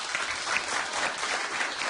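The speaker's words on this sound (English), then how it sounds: "You clap." A talk-show studio audience claps steadily and loudly, a thick continuous burst of applause with no voices over it.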